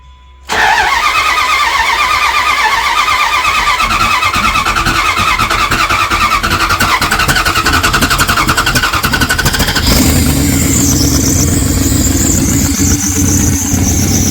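A Dodge Durango 5.9L Magnum V8 cranks and fires after a moment of quiet, then idles and revs loudly and close, its steady roar rising sharply in the final seconds.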